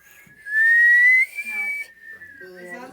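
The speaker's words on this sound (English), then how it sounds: "Can you whistle in and out?" A person whistles, first one long, rising, bright tone, then shorter wavering notes, close and clear with some faint talk around it.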